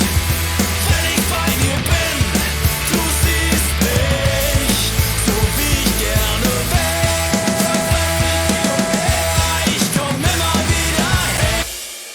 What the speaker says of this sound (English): I have in front of me a rather busy pop-punk mix with lots of guitars,